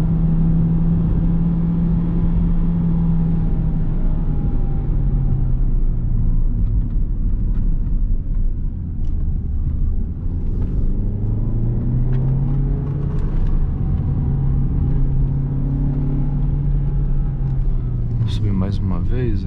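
A Peugeot 2008 1.6 automatic from 2020 climbs a mountain road in a low gear, its engine droning at steady high revs with rising and falling pitch, while someone talks over it.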